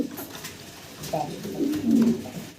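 Pigeons coo softly at close range in a pigeon seller's house, with a few low throaty calls swelling toward the end and a faint voice in the background.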